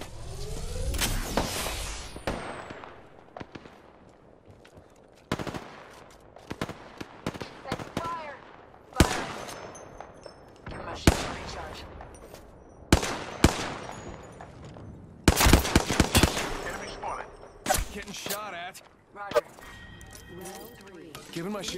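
Bursts of automatic and single gunfire in the Apex Legends battle royale on PS4, sharp repeated shots coming in clusters across the stretch, some near and loud, with quieter pauses between volleys.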